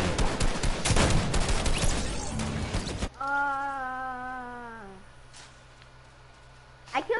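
Loud, rapid shooting in Fortnite rattles for about three seconds, then gives way to a sustained tone, quieter game sounds and talking, with a final sharp burst near the end.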